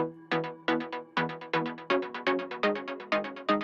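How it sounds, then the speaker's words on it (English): Bright layered synth pluck notes in a beat made in Ableton Live 11 repeat in a steady, bouncy rhythm, each with a sharp attack and quick decay, with no voices. "I layered that with another pluck right here,"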